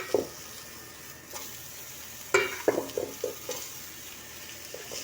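Chunks of camel fat hit a hot pan and sizzle in a soft, steady crackle, with a few sharper spitting bursts close by partway through and no talking.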